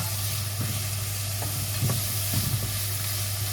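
Chopped onions fry with salt in a pan, a steady close sizzle with a low hum beneath, broken by a few soft scraping stirs of a spoon through the onions.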